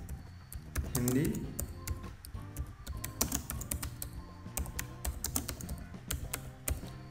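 Typing on a computer keyboard to enter a title, a steady run of quick key clicks with faint background talk beneath.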